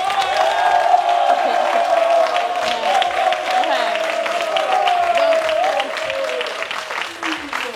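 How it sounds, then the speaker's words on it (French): Studio audience applause on a French television game show, sustained dense clapping with scattered cheers and whoops, steady and loud across the clip with voices carrying through it. "et ça s'applaudit"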